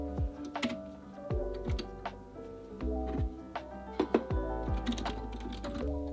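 Keyboard typing during a fast writing session, a steady run of light key taps with occasional heavier thunks, fairly close and quiet, with a low tonal background underneath and no talking.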